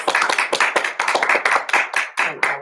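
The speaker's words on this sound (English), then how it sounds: "Sure, let's applaud our health workers" A congregation applauds health workers, brisk hand claps arriving in quick uneven bursts, close and fairly loud, with a small group's rhythm rather than a large crowd's roar.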